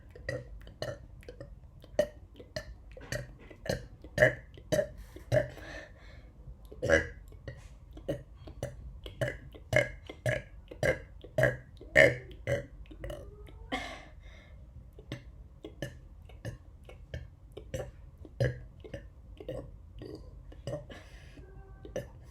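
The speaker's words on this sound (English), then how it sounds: "you'll be able to burp like me, around 500 times in a row" Dozens of loud, close burps from one person fire off in a rapid, steady series, each a short croaky gulp, with brief gaps between them.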